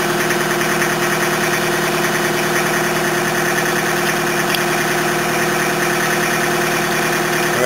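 An old Toyota engine runs loudly and roughly at a steady idle, with a continuous rattling, knocking drone close by and no talking.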